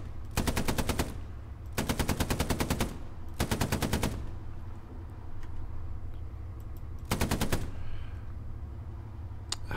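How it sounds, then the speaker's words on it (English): Machine gun fire in the WWII shooter Hell Let Loose, loud close bursts of rapid rhythmic shots, four long volleys with short quiet gaps between them. "Oh, machine gun, right, there you go."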